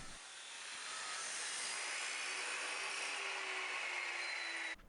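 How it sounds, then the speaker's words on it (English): A chop saw cuts through steel stock for a forged cutlass shell guard, a loud sustained high-pitched grinding whine that holds steady for about five seconds and then stops abruptly, with no voices. "Then back to the chop saw to make 2 little cuts."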